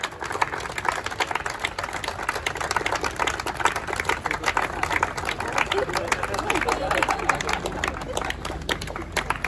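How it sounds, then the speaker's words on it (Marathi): Audience at a foundation day event applauding loudly, dense steady clapping from many hands throughout, with crowd voices mixed in. "सर्वांनी जोरात टाळ्या वाजवायच्या आहे"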